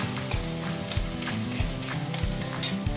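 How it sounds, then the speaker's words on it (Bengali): Onions sizzle and fry in a pan while rajma curry is being cooked, a steady crackling hiss punctuated by regular scraping knocks of a spoon stirring, close and with no talking. "পেঁয়াজটা অনেকটা ভাজা ভাজা হয়ে গেছে।"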